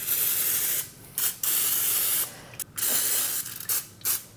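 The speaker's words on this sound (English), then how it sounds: "I'm using a little cooking oil, but you could definitely use butter, lard, or olive oil to spray the bottom of the pan" Cooking oil sprayed from a can onto the bottom of a baking pan, heard close up as several loud, sustained hissing bursts separated by short pauses, with no talking.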